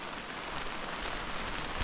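Steady rain falling through a long wet night, a dense even hiss with no breaks, close and moderately loud throughout.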